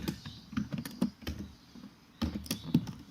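Keys clatter on a computer keyboard while Python code is entered, two bursts of quick irregular taps separated by a short pause, close and clear with no talking.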